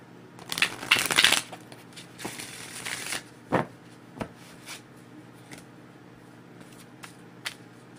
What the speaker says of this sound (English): I'll give it another quick shuffle